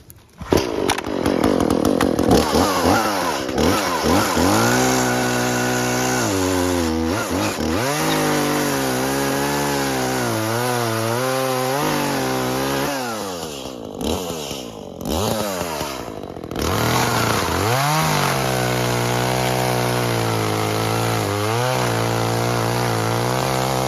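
An Echo CS-400 chainsaw with an 18-inch bar roars loudly and continuously, its engine pitch rising and dipping as it bites through wood, with brief drops in tone between cuts.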